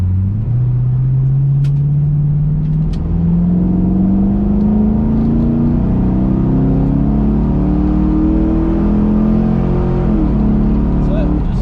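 A V8 Chevrolet Camaro muscle car runs on the Hampton Downs track, with a Lamborghini overtaking. The engine drones loud and continuous, its note climbing steadily in pitch as it accelerates, then easing back near the end.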